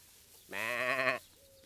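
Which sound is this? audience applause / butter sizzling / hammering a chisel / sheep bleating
sheep bleating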